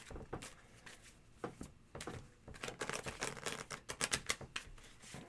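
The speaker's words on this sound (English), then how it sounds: "I'm shuffling and nothing's going on. I'm shuffling too." A deck of tarot cards being shuffled in a series of soft riffling and slapping bursts, quiet at first and then busier and denser, with faint room noise and no talking.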